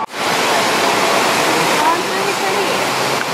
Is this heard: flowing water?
yes